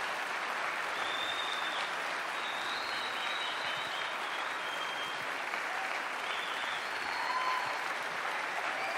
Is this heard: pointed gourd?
no